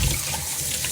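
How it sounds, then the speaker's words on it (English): Water runs steadily from a tap into a cup holding a tea bag, a continuous close splashing hiss with no voices. "I'll just put some water there"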